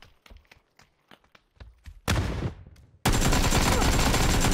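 PUBG video game gunfire: a run of sharp, distant single shots and thuds gives way to two loud close bursts, the last one sustained and roaring to the end.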